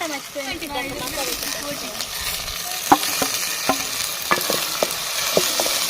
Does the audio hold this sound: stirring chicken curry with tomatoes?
yes